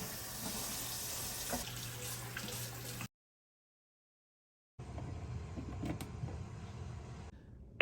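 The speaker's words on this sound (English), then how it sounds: "when I turn the water on" Water runs steadily from a kitchen tap into a sink during dishwashing, a close, hissing splash that cuts off for a moment and then resumes.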